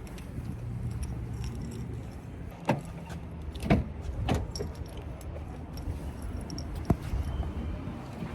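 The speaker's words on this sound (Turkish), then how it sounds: "Bir arabaya bineyim o zaman." Someone gets into a car: keys jangle and car door and interior clunks sound several times, sharp thumps near the start and middle over a steady low background, close by with no talking.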